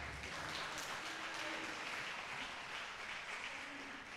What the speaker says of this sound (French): Est-ce qu'on peut applaudir cela?